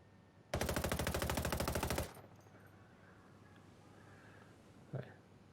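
An unsuppressed 516 Shorty rifle in Ghost Recon Breakpoint fires one loud, rapid full-auto burst of about a second and a half, followed by quiet with a single faint thump.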